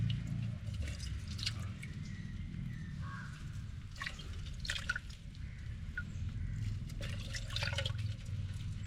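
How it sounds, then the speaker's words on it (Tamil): Water poured and dripping over a crab being washed by hand for cleaning, steady trickling and splashing with a low background rumble, no talk. "அதான் தண்ணி ஊற்றி கழுவிட்டேன்."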